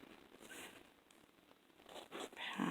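A zipper on a handmade twirling dress is pulled down in short, quiet rasping bursts, close but faint, with light fabric rustling between pulls.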